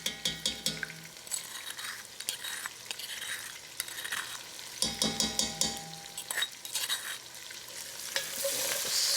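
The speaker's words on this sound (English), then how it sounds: "So I'm going to put in some onions," Onions sautéing with a mortar-and-pestle spice mix in a Senegalese dish, a continuous close sizzle broken by frequent scraping stirs and light utensil clinks against the pan.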